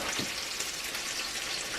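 Bacon sizzles in a cast iron pan on an outdoor grill, a steady soft hiss and crackle heard alone at close range.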